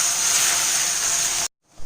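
Curry leaves hit hot oil in a pan and set off a loud, steady hiss of sizzling that cuts off abruptly after about a second and a half.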